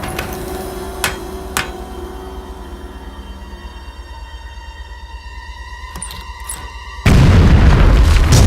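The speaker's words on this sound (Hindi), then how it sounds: "उड़ा दो इस चट्टान को।" In a Motu Patlu cartoon, a rock is blasted apart. Quiet tones and a few sharp knocks give way to a sudden loud, sustained rumbling explosion that fills the last second and a half.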